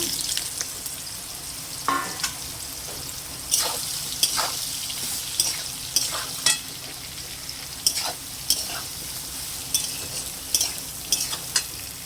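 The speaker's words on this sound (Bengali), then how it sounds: "সয়াবিনগুলো কষে নেব।" Soybean chunks fry in a pan for a Bengali soybean recipe, giving a steady close sizzle broken by a dozen or so sharp scraping stirs at irregular intervals, with no talking.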